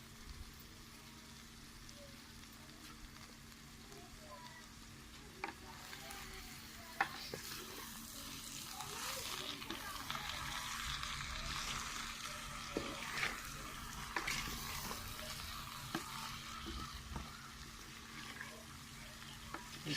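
Mutton filling frying on a low flame, a faint continuous sizzle with occasional stirring scrapes and clicks, growing slightly busier midway, soft and close.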